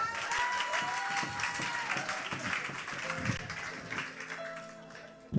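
A church congregation applauds steadily and loudly throughout, a dense wash of clapping with occasional voices and cheers mixed in.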